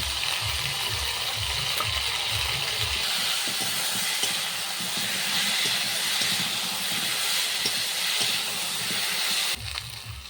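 A loud, steady sizzling hiss of okra and potato frying in hot oil with salt and turmeric runs throughout, with a few low thumps near the start and end.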